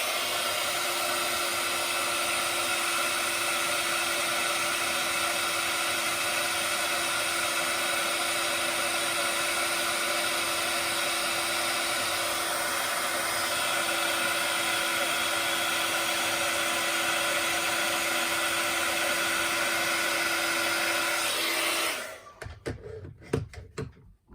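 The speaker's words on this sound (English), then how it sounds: "I'm just going to heat set that now." A heat gun blows with a loud, steady whir for about twenty seconds, heat setting embossing powder on a stamped card, then cuts off abruptly, leaving brief handling noises.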